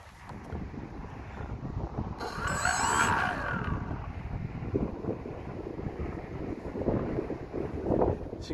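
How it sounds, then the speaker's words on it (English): Gusty wind rumbles and buffets a microphone outdoors, a low, steady roar that swells in the middle, with no talking. "it's windy. You can probably hear it."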